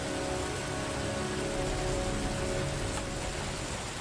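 Heavy rain pours steadily outside a car in the game Heavy Rain, a dense, even hiss of drops drumming on surfaces with no break.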